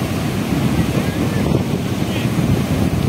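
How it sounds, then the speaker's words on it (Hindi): Ocean waves surge and wash over rocks on a beach in Goa, a continuous broad rushing wash with steady roar and wind buffeting the microphone throughout. "जब लहरें आती है यहाँ उसके ऊपर"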